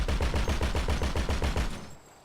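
Burst of rapid heavy-caliber fire from the HVY Menacer's mounted .50 cal gun in GTA 5, about a dozen even, booming shots in quick succession, loud and close, then cutting off into a short fading tail.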